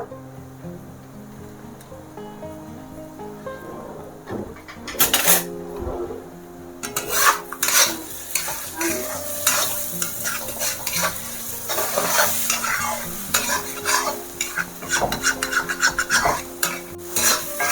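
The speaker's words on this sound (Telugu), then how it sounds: "ఇలాగా హై ఫ్లేమ్ మీద పెట్టేసి కలుపుతూ ఉంటే ఇవి ముక్కలు ముక్కలుగా అవుతాయి" Egg noodles stirred in a pan over a high flame, a steady sizzle with scraping, rasping strokes of the spatula that grow louder and busier after a quieter start.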